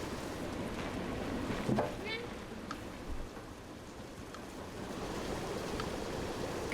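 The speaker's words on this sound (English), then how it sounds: "Garbage waterfall," A garbage waterfall in the video game Stray pours down in a steady, continuous rushing wash of water, with a few faint chirps and clinks rising briefly above the flow.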